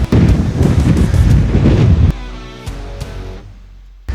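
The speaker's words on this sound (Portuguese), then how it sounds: "Bastante vento" Strong wind buffets the microphone on a steep mountain hiking trail, loud and close in heavy gusts that ease into a lower rumble and then pick up again at the end.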